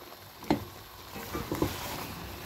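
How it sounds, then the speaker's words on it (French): Soft stirring of peanut sauce with smoked chicken in an old pot, a few scraping strokes over a low simmering sizzle, close and quiet. "Je vais remuer comme ça"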